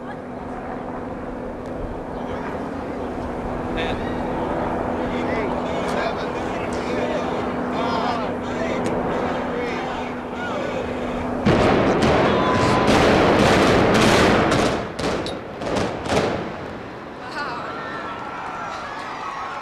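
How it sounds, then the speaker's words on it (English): Muehlebach Tower in Kansas City, Missouri collapsing in an explosive demolition implosion: a steady rumbling hum gives way to a sudden loud, broad roar of crumbling debris that swells for several seconds and then fades into lingering rumble. "In less than 10 seconds, the Muehlebach Tower comes down"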